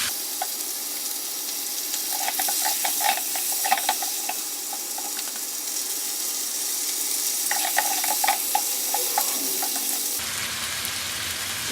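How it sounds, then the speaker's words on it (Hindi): Chicken pieces fry in a pan for biryani, a constant bright sizzle with intermittent scraping and clinking as they are stirred, heard close with no talking. "चिकन को 1 मिनट के लिए फ्राई करेंगे।"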